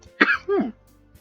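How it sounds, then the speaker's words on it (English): A person coughs at close range: two rough, hacking bursts in quick succession, followed by quiet. "My coughing is getting worse."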